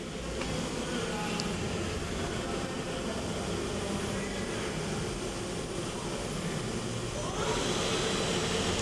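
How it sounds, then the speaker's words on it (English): A Doosan Lynx 220A CNC lathe with a Fanuc 0iTC control, a 6-inch chuck and a chip conveyor runs its spindle, giving a steady, even machine hum and whine with no breaks throughout. "I'm gonna run the spindle."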